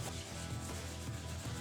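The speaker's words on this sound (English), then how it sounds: "Once I felt the wet sanding was complete" Steady wet sanding on a 3D-printed cosplay helmet with fine-grit paper, a continuous close rubbing scrape with slight rhythmic strokes, no talking.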